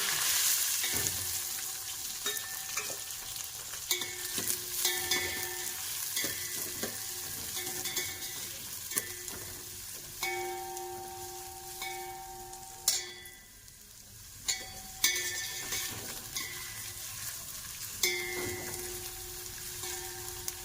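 Green chilies, curry leaves, onions and mustard seeds sauté in hot oil with a steady close sizzle, broken by occasional scraping stirs and clinks of a utensil against the pan, with a faint hum in the background.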